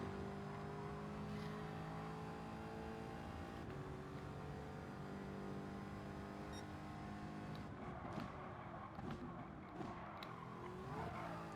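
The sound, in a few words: race car engine in video game Gran Turismo 7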